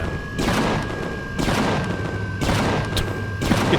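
Turrets firing in the Empyrion space game: four heavy bursts of booming fusillade spaced about a second apart over a constant high electronic tone, loud and close.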